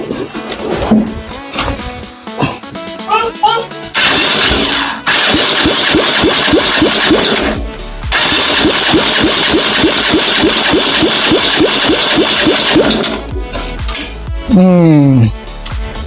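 A Ferrari replica's engine cranks, catches and runs loudly for several seconds, cuts out, then starts again and runs before stopping, with clanks in between.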